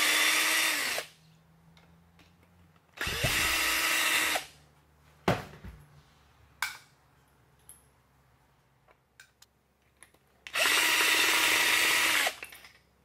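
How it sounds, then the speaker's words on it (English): A power driver backs three Phillips head screws out of a Bauer polisher, heard as three loud whirring runs of one to two seconds each. Sharp clicks and clatter of loosened parts come between the runs, and no voices are heard. "Remove the three Phillips head screws."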